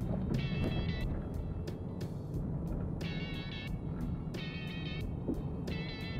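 A 1998 Ford Mondeo 1.8 LX drives along with a steady low engine drone and road rumble, while repeated tonal whines rise and fall over it in bursts, heard from inside the car with no talk.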